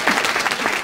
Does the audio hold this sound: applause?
yes